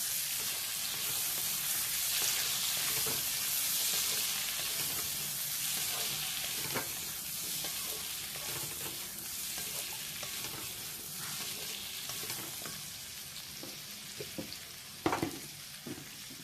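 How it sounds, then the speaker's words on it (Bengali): Chopped onions, tomatoes and green chillies frying in oil in a pan: a steady, dense sizzle runs throughout at close range, with a few stir clatters and one sharp knock near the end, and no talking. "পেঁয়াজগুলো একটু ভাজা ভাজা করে নেবে।"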